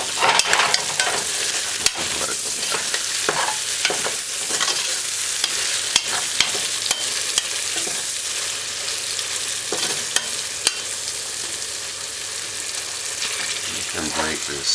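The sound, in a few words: cow's tripe and beans cooking in a pot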